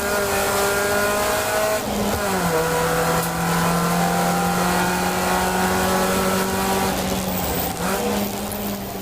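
A race car laps the Brands Hatch GP circuit during a trackday race, its engine loud and close, holding a sustained roar with shifts in pitch as it changes gear and accelerates out of corners.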